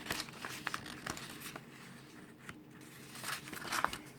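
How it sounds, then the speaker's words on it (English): A paper self-addressed stamped envelope is folded in thirds, giving quiet, close crinkles and soft creasing taps at an irregular pace. "When we take our self-addressed stamped envelope, we fold it in thirds, like we did the letter."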